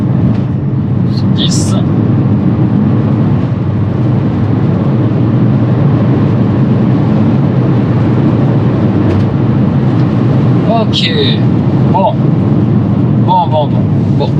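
Electric car accelerating from 0 to 100 km/h, heard as steady road and cabin rumble with a faint rising motor whine, while people talk inside the car now and then.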